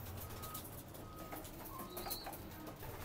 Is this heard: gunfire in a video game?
no